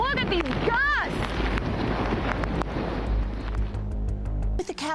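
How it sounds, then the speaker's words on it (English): Strong wind gusts roar and buffet the microphone in a continuous, loud rush during Hurricane Delta's landfall near Port Arthur, with brief chirping sounds early on and a person talking underneath. "Look at these gusts."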